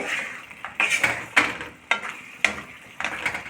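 A spoon scrapes and stirs grainy wheat semolina upma in a pan, in a series of distinct strokes with short pauses between them.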